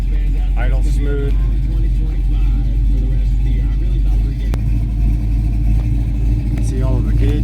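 A fully restored 1968 Dodge Charger R/T with a 440 big-block V8 idles smoothly, a deep, steady, close rumble running unbroken throughout while someone talks intermittently over it.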